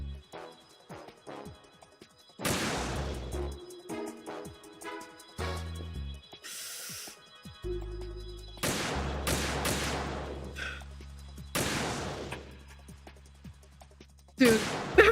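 Gunfire in the video game Metal Gear Solid 2: repeated sharp shots in bursts and single cracks, loud and close, separated by brief quiet gaps and low rumbling tones.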